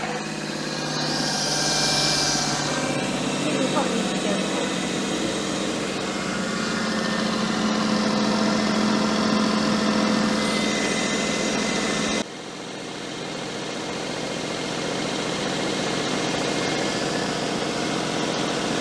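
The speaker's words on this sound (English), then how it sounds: "The engine certainly sounds nice and happy and smooth though." Engine-swapped Daihatsu Charade idling smoothly, a steady close engine drone with a faint whine and light vibration, continuous for nearly twenty seconds with a slight drop in level partway through.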